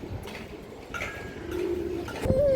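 Soft cooing from a bent-beaked old-line domestic pigeon rises faintly above a steady low background hum, with a couple of brief calls near the end.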